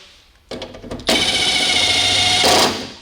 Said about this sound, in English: I'm not afraid to use my power tool.